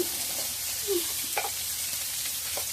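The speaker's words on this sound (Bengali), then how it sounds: "আলু একটু পেস্ট করতে হবে আর আলুতে একটু লঙ্কা দিয়ে দিলাম" Boiled potatoes with chili being mashed and stirred in a hot pan, a steady oil sizzle with a few soft scraping stirs of the spatula.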